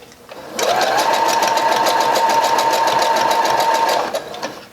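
A sewing machine stitches a weft onto a headband wig in one steady, close run of rapid needle chatter lasting about three and a half seconds, then stops.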